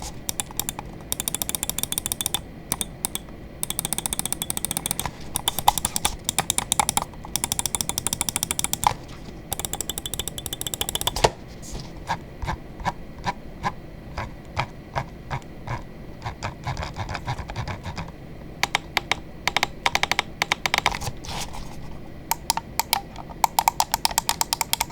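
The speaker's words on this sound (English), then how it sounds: "let's go ahead and drop the sound click test" A VXE Mad R Major gaming mouse clicks repeatedly in a close, dry test, with rapid bursts and runs of crisp clicks and short pauses between them, and no one talking.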